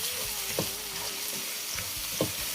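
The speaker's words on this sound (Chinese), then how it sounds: "用铲子快速的给它翻炒均匀" Diced shiitake mushrooms and carrots stir-fried in a hot wok, a steady sizzle broken by a few scraping spatula strokes as the pieces are tossed.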